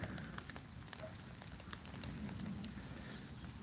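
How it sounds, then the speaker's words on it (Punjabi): Heavy rain falls over a village with wheat fields, making a steady, diffuse wash of noise that stays faint and distant throughout, with no one speaking. "ਫੇਰ ਆ ਗਿਆ ਮੀਂਹ ਬਹੁਤ ਜ਼ਿਆਦਾ"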